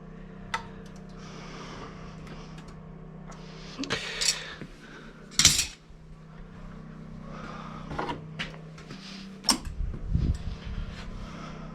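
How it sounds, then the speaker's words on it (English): A Triangle Tube Challenger boiler igniter makes repeated sharp clicking snaps over a steady low mechanical hum, with a few louder bursts scattered through the clip. "Because I can hear it sparking."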